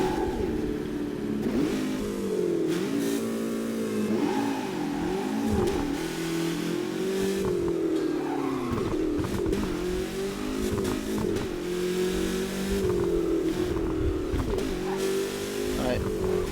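In the Burnout Paradise video game, a Ferrari-like car's engine revs continuously, its pitch rising and falling in repeated surges at steady, fairly loud volume.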